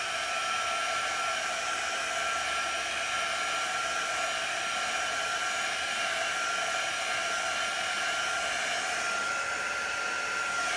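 Hair dryer blowing steadily to dry chalk paste on a wooden box frame, a loud, constant whirring hum with a whistling tone that holds unchanged throughout.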